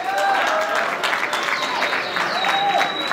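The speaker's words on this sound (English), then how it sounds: "them two also deserve a big round of applause" Guests at a holiday party break into a round of applause, steady clapping from a small crowd with a few whistles and cheers over it, fairly close.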